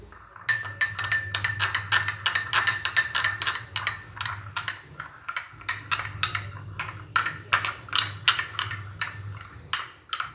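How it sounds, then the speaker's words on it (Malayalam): A spoon stirring beetroot juice and cornflour face pack in a glass bowl gives quick, bright repeated clinks in uneven bursts with a short pause midway, close and clear with no talking. "നമുക്കിതിൻ്റെ ജ്യൂസ് ഇങ്ങനെ കുറച്ച് ഒഴിച്ചിട്ടൊന്ന് ഇളക്കി കൊടുക്കുക."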